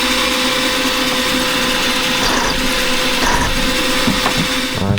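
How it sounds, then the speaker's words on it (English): A mini lathe cuts a chamfer on the leading edge of a spindle lock part, giving a continuous, close mechanical whir with a steady motor hum and gritty, irregular cutting chatter throughout. "we'll just put a nice chamfer on the leading edge"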